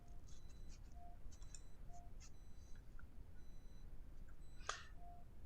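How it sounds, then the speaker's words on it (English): A faint, short electronic alarm beep from air traffic control software repeats roughly once a second, thin and quiet against low background hiss, with a few soft clicks and a brief scratchy noise. "I need 12 miles before this alarm will stop."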